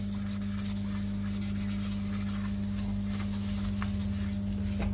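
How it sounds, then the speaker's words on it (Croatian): Car headlight being wet-sanded by hand with 1200 grit sandpaper: continuous close, even rubbing and scratching over a steady low hum, with no talking. "Sad ćemo brusiti sa 1200."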